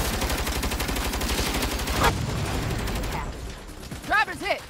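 Bursts of automatic gunfire in the Saints Row reboot, a fast rattling stream of shots running loud and steady for about three seconds, then tapering off into a few scattered mechanical clanks and pings near the end.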